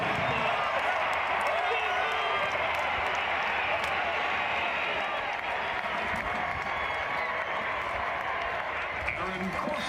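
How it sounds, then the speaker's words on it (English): A football stadium crowd at an FCS playoff game roars and claps after a touchdown, a continuous loud wash of cheering and applause with a commentator talking over it. "You hear the crowd, you hear them talking."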